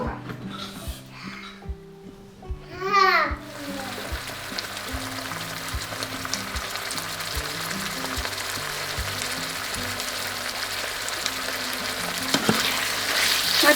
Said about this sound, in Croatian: i propržiti je zajedno s ovim lukom